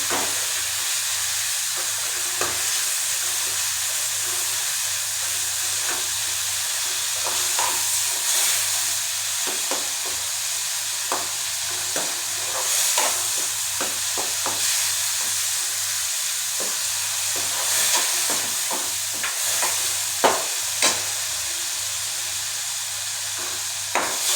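Banana slices fry in a pan with a steady sizzle and hiss. Stirring sends out repeated short scrapes and clicks close by, and no one speaks.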